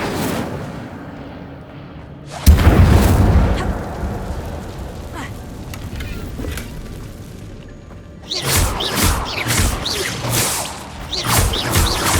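The Incendio fire spell in Hogwarts Legacy goes off with a loud whooshing burst of flame and a deep boom, then crackling, and a second flurry of fiery blasts follows.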